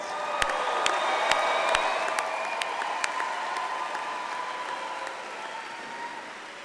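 Applause with cheering and whoops from a graduation ceremony crowd, a dense sustained roar of many hands that stays loud and slowly eases off, with a few sharp near claps on top.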